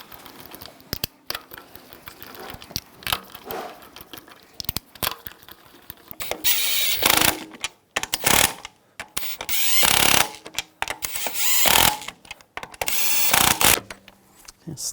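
A ratchet tightens lug bolts on a 2000-2006 BMW X5 wheel, fast clicking bursts that grow louder and busier toward the end, with no talking.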